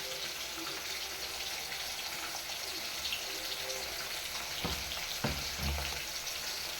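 Fish pieces frying one by one in hot oil, a dense, continuous crackling sizzle heard close, with a few soft knocks and thumps of utensils toward the end.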